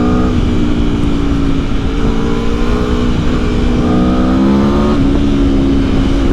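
A 2021 Aprilia Tuono V4 Factory naked motorcycle accelerates hard with its engine note climbing and dipping repeatedly as the anti-wheelie control cuts in, loud and continuous against wind rush.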